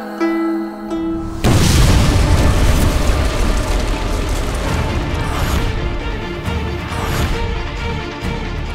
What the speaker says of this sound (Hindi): ये कैसा धमाका था?